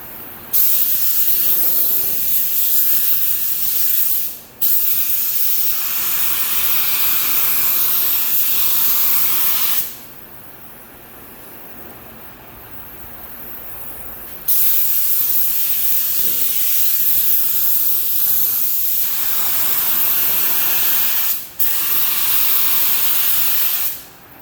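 A spray gun applies sealer onto bare metal of a 1985 pre-merger AMG Mercedes-Benz 500 SEL during a full refinish: loud, close hissing bursts with brief pauses between passes and a longer quiet gap midway.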